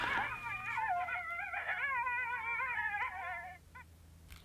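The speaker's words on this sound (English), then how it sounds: "I just heard a coyote bark." Coyote calling in the Wyoming outdoors during a hunt: a wavering chorus of high yips and howls that rise and fall for several seconds, fairly loud at first and then breaking off, with no talk.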